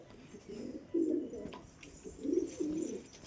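Male pigeons coo softly at feeding time in a home loft, two low throaty coos about a second apart, close but quiet, with no talk.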